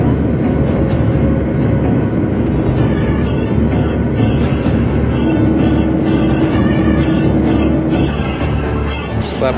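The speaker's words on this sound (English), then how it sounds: "We're on the air train." A steady, loud rumbling roar of a moving airport air train fills the interior, with a faint tonal whine appearing midway and a chime-like tone near the end.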